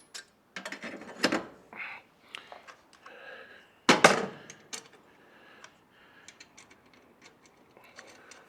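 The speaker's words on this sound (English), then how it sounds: "We'll go ahead and get these bolts in." Bolts fastened onto a camping trailer: scattered metallic clicks, ratcheting and taps with a louder clatter midway, close and fairly quiet, then sparse ticks trailing off, with no speech.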